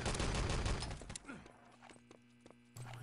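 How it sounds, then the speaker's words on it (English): Online shooter Enemy Territory match: a dense burst of artillery blasts and rapid gunfire rattles loudly for about a second, then drops to sparse distant shots and a faint mechanical hum before another loud surge at the end. "Artillery, very aggressive artillery from the Axis team."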